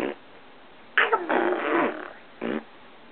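A fart sound follows a pull-my-finger joke: a short burst, then a longer raspy blast, and a brief final puff, loud and close with no talking over it.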